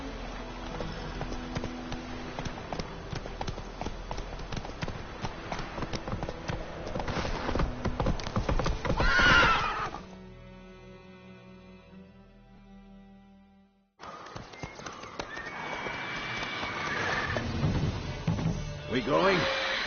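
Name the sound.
horse Roach galloping and neighing, from a video game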